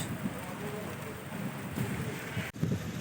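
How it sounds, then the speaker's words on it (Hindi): Heavy rain falling outdoors at a market in a Kashmiri valley in bad weather, a steady broad wash with a low rumble underneath and bits of indistinct voice, constant and close. "बारिश शुरू हो गई है"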